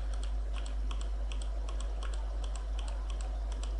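Quiet, close keystrokes on a computer keyboard, quick irregular taps over a low steady hum, with no talking.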